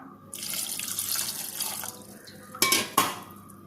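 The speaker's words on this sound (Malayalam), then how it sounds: "ഇനി രണ്ടാമത് നമുക്ക് വീണ്ടും വെള്ളം ഒഴിച്ചു കൊടുക്കാം" Tap water runs into a pot for a second boil of tapioca, a steady filling rush that swells, then two sharp metallic clanks of the pot near the end.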